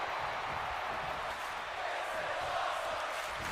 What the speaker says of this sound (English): And the crowd loving what they're seeing here tonight.